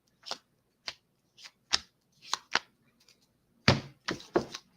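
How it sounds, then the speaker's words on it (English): Tarot cards are shuffled in short, crisp riffles and slaps, about a dozen bursts with brief pauses between, close and fairly quiet. "Shuffle the cards. Shuffle one more time."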